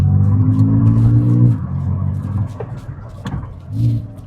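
Honda Super-ONE fitted with a MUGEN kit pulls away on a drag strip, its engine droning loud and close with a strong steady note that drops after a second and a half, then swells again briefly near the end.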